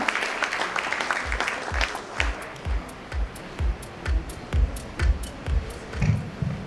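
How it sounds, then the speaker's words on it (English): Applause welcomes a speaker to the stage at a formal evening business gathering of the EU Chambers; scattered clapping fades into slower rhythmic claps with low thumps, moderately close and without voices. "Let's have a huge round of applause for Mr. Nicholas Simon"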